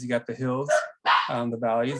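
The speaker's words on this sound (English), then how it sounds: "You have to excuse my dogs, they're going to bark every once in a while." Pet dogs bark a few times in a home setting, sharp short yelps mixed in with someone talking steadily over them.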